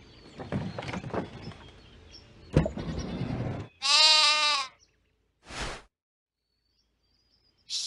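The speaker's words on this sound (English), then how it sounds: "Sheep." Sheep bleating: a loud wavering bleat, then a shorter second one, following a stretch of rustling and shuffling noise.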